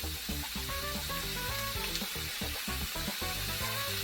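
Carrots, ginger and garlic fry for Nigerian fried rice, giving a dense, continuous sizzle with faint stirring scrapes, close and fairly steady, with no voices.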